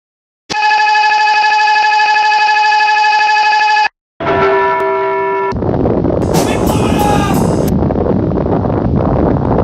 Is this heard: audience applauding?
no